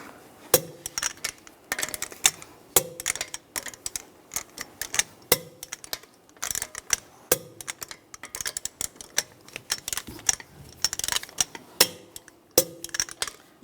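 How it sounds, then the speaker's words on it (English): A torque wrench tightening the lug bolts on a 2012-2019 BMW 328i xDrive wheel in a cross pattern, a series of sharp metallic clicks and ratcheting taps in uneven clusters, close and fairly loud, with no talking. "Now we're going to torque the lug bolts to 90 foot-pounds in a cross pattern to tighten the wheel down"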